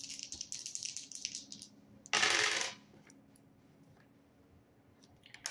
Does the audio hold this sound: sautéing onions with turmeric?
no